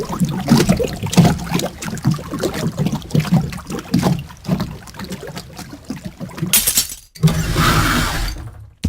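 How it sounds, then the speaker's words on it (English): Glass shatters during a Payday 2 heist, a bright crashing burst standing out near the end over a steady bed of muffled rumbling and clattering game noise. "Glass broke, someone opened a drawer."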